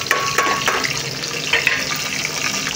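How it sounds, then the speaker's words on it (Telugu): Tomato dropped into hot oil for stuffed brinjal curry, a loud, dense, hissing sizzle that runs continuously with a few crackling spatters near the start. "నేను టమోటా వేసేస్తున్నాను."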